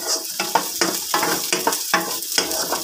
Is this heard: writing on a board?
no